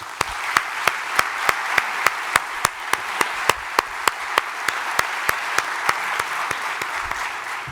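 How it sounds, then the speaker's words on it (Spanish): Foundation conference attendees applaud in unison, with a rhythmic clap repeating steadily about every third of a second over a continuous wash of clapping that holds for several seconds. "el primer aplauso es para el trabajo que ha estado haciendo la Fundación durante todos estos años"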